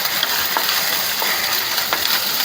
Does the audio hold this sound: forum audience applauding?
no